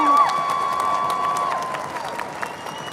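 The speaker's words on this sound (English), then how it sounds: "Let's begin with the loudest applause for our seniors." Applause and cheering for graduating seniors at a 2021 Berkeley High commencement ceremony, a crowd clapping steadily with a few shouts, a sustained whistle-like tone early on, gradually fading toward the end.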